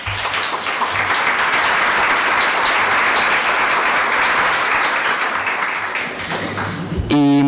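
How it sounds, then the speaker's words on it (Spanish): An audience breaks into sustained applause welcoming a guest at a talk, a dense, steady wash of many hands clapping for several seconds, ending abruptly as a voice begins. "un aplauso para él"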